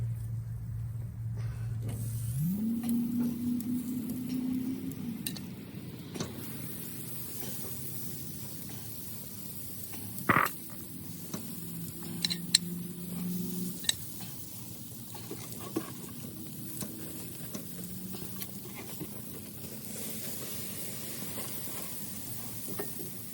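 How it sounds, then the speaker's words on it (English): Asparagus sizzles over the open flame of a hot grill, a steady broad frying hiss running throughout with a low hum underneath and a few sharp clicks and pops scattered through. "I'm gonna just let my, let my asparagus just cook over that open flame."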